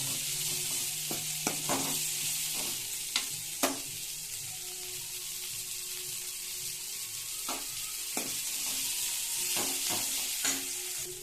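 Okra (ladies' finger) sizzles steadily as it fries in a pan for a Tamil tamarind curry, with a spoon or spatula scraping and clicking against the pan in irregular stirs throughout. No one speaks.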